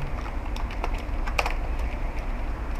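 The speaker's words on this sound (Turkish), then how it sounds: "yine standart olan HTML kodlarımı yazıyorum" HTML code is typed on a computer keyboard, the soft, close clicks of keys coming in irregular quick runs over a low steady background hum.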